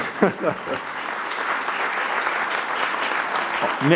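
Applause from an audience at a mayor's New Year reception, a continuous broad patter of clapping filling the room, with a few brief voices near the start and end.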